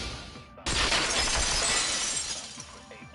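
A vase shattering in the video game Danganronpa 2, a single sudden crash of breaking glassy ceramic that bursts in after a short silence and rings on for a few seconds before slowly fading.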